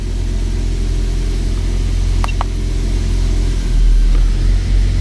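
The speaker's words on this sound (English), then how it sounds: "Turn the engine on, engine off." A Toyota Prius engine runs with a steady low idling hum, loud and close, rising slightly near the end with a couple of brief clicks midway.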